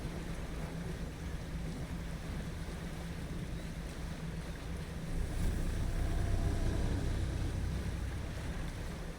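Boat engines in the fishing game Dredge, a low steady droning rumble under a constant wash of wind and water ambience that swells slightly louder midway, with no speech.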